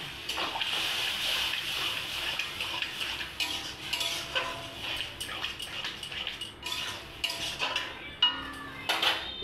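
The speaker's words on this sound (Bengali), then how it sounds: "এবার আমি ওকে ঘুগনির কড়াইটা ঢেলে দেবো।" Spiced peas for ghugni are tipped into a wok of fried masala, giving a close, busy run of metal scraping and stirring clatter over a low sizzle, with pan knocks throughout.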